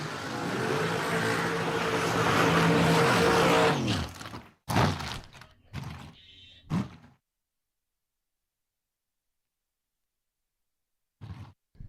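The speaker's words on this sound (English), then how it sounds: "Got Brett Bennett in his beautifully prepared top dragster." A top fuel dragster at a drag strip roars loudly for about four seconds, then cuts off into a few sharp mechanical bangs and clunks before falling silent, with a brief faint thump near the end.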